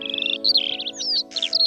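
Small birds chirp and tweet in quick, varied bursts over a steady tonal hum. A short buzzy trill and rising whistles are mixed in, all close and clear.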